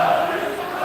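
A loud crowd booing at a UFC press conference, a sustained, roaring wall of voices filling the whole moment without a break.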